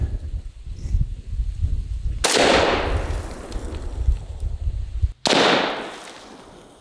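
Steyr AUG A1 rifle firing military tracer rounds into a block of concrete about 15 yards away: two loud, sharp shots, each cracking out and fading into a long echoing decay, the second a few seconds after the first, over low background rumble.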